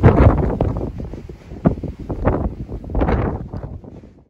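Strong wind roars and buffets the microphone on an exposed mountain summit in Mallorca, gusting unevenly in loud rumbling surges with no talking.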